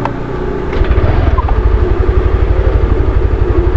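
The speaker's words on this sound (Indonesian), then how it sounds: "Sekalian panasin mesin deh" A motorcycle engine idling as it warms up on a morning ride, a close, loud, steady pulsing thrum with a fast even beat after a brief rev at the start.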